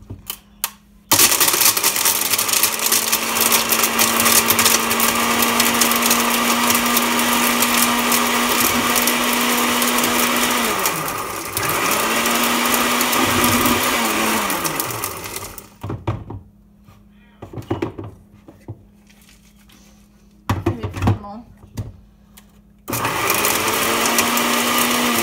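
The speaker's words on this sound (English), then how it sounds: "My blender's old, so I might have to pause you guys for a second because this is going to be loud." An old kitchen blender grinds Bean Boozled jelly beans. It gives a loud, steady motor whine that dips and restarts around the middle, then stops and starts in short bursts, with quieter gaps and thumps between them.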